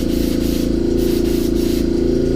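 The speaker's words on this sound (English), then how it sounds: "and simply spray it till it comes clean on a piece of paper towel." Airbrush spraying water onto a paper towel during cleaning, a steady close hiss with a faint rhythmic pulsing, loud and continuous for a couple of seconds.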